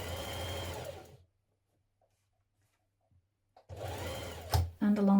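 A sewing machine stitches a jumpsuit pocket in two bursts of steady, rapid whirring with a quiet gap between them; a voice talks over the stitching.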